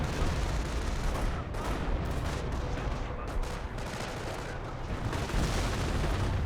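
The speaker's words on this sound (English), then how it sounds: "Panzer IV firing away" A Panzer IV tank firing during a Company of Heroes battle, heavy booming shots amid a dense wash of gunfire and battle noise, loud and continuous throughout.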